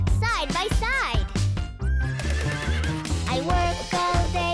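A cartoon horse neighs with a shrill, wavering whinny, followed by light clip-clop hooves, all set against upbeat children's song music and sung voices.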